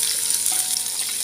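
Onion frying in hot oil with cumin seeds and green chillies in a pan, a loud continuous sizzle over a brief moment.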